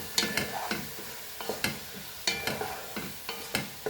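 Goan prawn and brinjal masala with chili powder sizzles in a pan while a spoon stirs in regular scraping strokes, each stroke sharp and close over a soft frying hiss.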